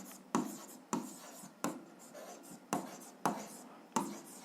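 Pen strokes on paper while working an algebra exercise, a series of six short scratchy bursts at an even pace, close and fairly quiet, with no talk over them.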